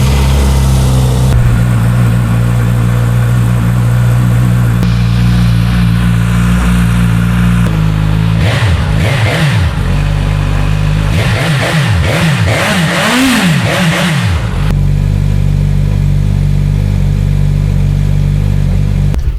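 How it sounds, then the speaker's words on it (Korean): A Suzuki GSX-S1000 1000cc four-cylinder motorcycle engine starts and idles steadily, then revs hard in repeated rising-and-falling blips before settling back to a smooth, loud idle. "시동 확인해 보도록 할게요."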